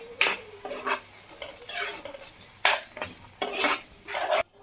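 A thick tomato and cashew paste with fried onions is stirred in a pan for paneer matar masala, with repeated scraping and sloshing strokes in short bursts over a faint sizzle.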